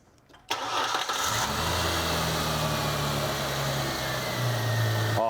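A car engine cranks briefly and catches, then settles into a steady, loud idle that holds for several seconds, close by in a garage.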